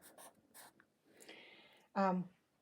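Hand writing of a simple sum during a multiplication lesson for children, with faint scratchy strokes coming in short bursts, a brief spoken sound cutting in near the end.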